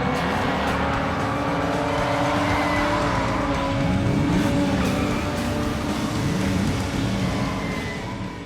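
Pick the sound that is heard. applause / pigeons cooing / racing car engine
racing car engine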